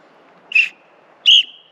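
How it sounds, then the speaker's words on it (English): Two sharp, shrill whistle blasts, close and loud, the second longer than the first, separated by a short pause. "a lot of riders don't have, is a whistle"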